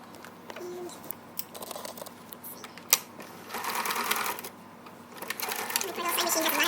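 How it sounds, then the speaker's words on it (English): A well-worn home sewing machine stitches repurposed clothing, running in rapid mechanical bursts of whirring and needle clatter that stop and restart, close to the microphone. "poor little sewing machine has a lot of hours on it"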